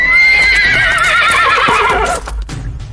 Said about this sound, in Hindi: घोड़े दहशत में हिनहिनाते हुए अपने पिछले पैरों पर खड़े हो गए।